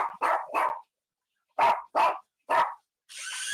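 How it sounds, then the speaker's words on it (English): A dog barks in close, loud bursts: three quick barks, a pause, then three more, followed by a brief rushing noise at the end. "And Lola's barking up a storm."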